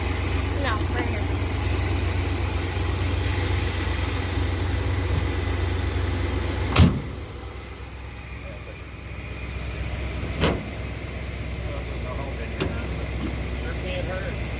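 Engine of a classic Dodge A100 van idling with a steady low rumble close by, a couple of sharp door or latch clunks and people talking over it.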